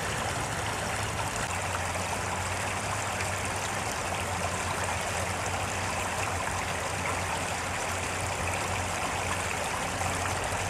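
A storm-swollen river rushes and churns in a dense, steady roar with no pauses, close and loud, no voices present.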